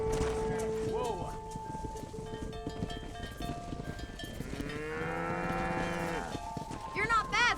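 A herd of cattle lowing in the Western video game Red Dead Redemption, several long, drawn-out moos rising and overlapping close by, with a voice talking beneath and hoofbeats and clinking in the background.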